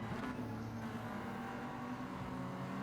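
Daihatsu Copen kei car engine in Gran Turismo 7 on the Willow Springs streets circuit, a steady low-revving drone held evenly at moderate loudness for a few seconds, with no talk.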